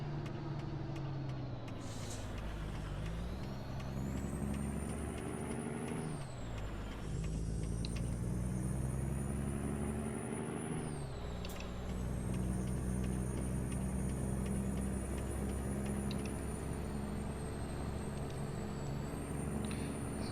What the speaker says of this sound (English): this is the modded version of the Peterbilt 389 by Viper 2